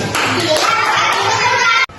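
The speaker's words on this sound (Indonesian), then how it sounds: "Tepuk tangan." Children clap their hands together in a classroom lesson, a loud, close burst of quick claps with young voices chattering underneath, ending abruptly.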